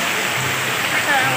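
Steady rain falling outdoors around a child's inflatable pool, a dense continuous hiss with no breaks, close and fairly loud.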